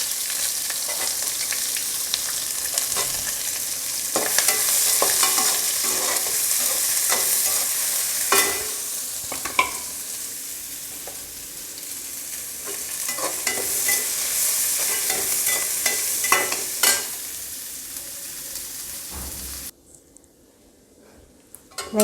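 Three sliced big onions sauté in hot oil in a pan, a loud, steady sizzle with repeated spatula scrapes and knocks against the metal before the frying sound cuts off near the end.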